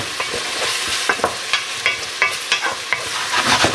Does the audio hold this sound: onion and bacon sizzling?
yes